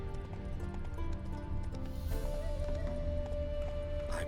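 Horse hooves clip-clopping in a steady galloping rhythm from The Witcher 3, with a constant in-game ambient bed and a sustained tone underneath, fairly close and continuous throughout.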